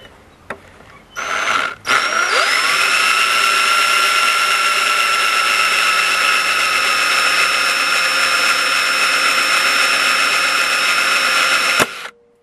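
A power drill whines at a steady high pitch for about ten seconds as its bit bores through a screw inside a floor sander, starting after a brief rattle and stopping sharply.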